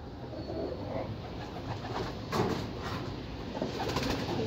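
Soft cooing of racing pigeons arriving home murmurs through a steady wash of outdoor noise, low and muffled, with a few faint bursts of fluttering.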